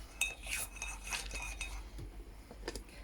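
A spoon stirs honey into a mug of tea, making quiet, close clinks and scrapes of metal against ceramic in an irregular rhythm.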